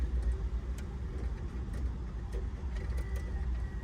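Inside a Ferrari 458 Spider with the ignition on and the engine off, the dashboard CD changer loads a disc with faint mechanical whirring and small ticks over a low electrical hum.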